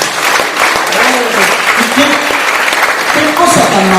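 A church congregation bursts into loud applause during a sermon, a dense, continuous clapping roar with a few voices rising over it.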